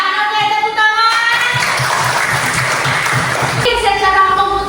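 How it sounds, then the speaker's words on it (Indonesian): A classroom of pupils breaks into a burst of clapping lasting a few seconds, loud and close, with a teacher's voice talking just before and after it. "Oke, tepuk tangan."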